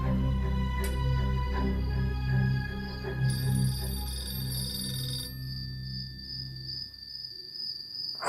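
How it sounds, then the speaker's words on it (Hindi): A phone rings in an Urdu television drama, a continuous high electronic ringtone held for several seconds at moderate level against a quiet background, with no talk over it. "फोन बज रहा है।"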